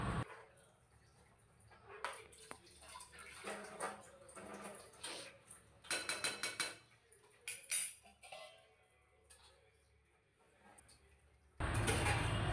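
Ground roasted masala being stirred into mutton curry in a pot: quiet, intermittent scraping and clinking from a spoon against the pot, with soft wet sounds and a louder burst at the end.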